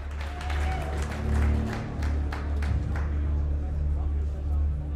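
Applause at a fight-night staredown event for featherweight fighters, a steady clapping crowd under a loud amplified announcer voice with a low background hum.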